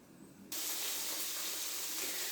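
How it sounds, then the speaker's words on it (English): Bacon sizzles in a pan with a dense, steady hiss that swells suddenly after a quieter start, then holds loud and even to the end, with no talk. "You probably hear the bacon sizzling in the background."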